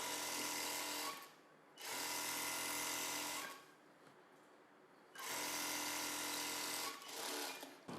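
A sewing machine stitching blouse cloth, running in two loud, steady bursts of rapid whirring with a short quiet pause between them, no talk.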